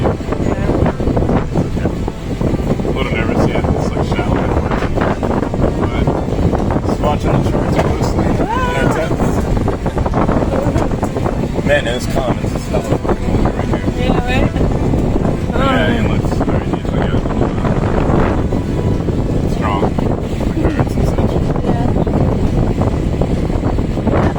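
Strong wind buffets a sailboat on choppy, narrow water off Clearwater, with steady loud roar and rumble of wind on the microphone and water throughout; voices talk intermittently underneath.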